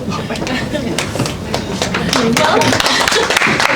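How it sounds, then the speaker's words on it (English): Audience applause for Jessica at an awards event at Lincoln Center: scattered claps rise and swell into fuller clapping, heard beneath a speaking voice. "Round of applause to Jessica."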